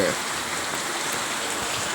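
Steady rain falls and patters on surfaces nearby, a continuous hiss with scattered drops, with no voices heard.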